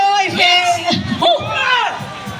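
At the finish of a cycling race in Mandaluyong City, a crowd cheers and shouts in loud bursts. An announcer's voice and whoops rise above the general babble close by.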